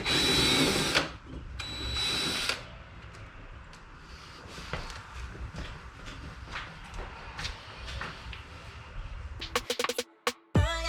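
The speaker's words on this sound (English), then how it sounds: "I'm undoing the bolts on the brackets to secure the bumper to the wing." A power tool whirs in two loud bursts while undoing the bolts that hold the bumper brackets to the wing of a wrecked 2016 Ford Focus RS, followed by softer workshop clatter and a few sharp knocks.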